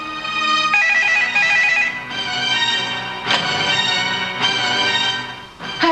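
Bright electronic ringtone from a mobile phone chimes in repeated melodic bursts, loud and near, running for several seconds before the call is answered, with no one speaking.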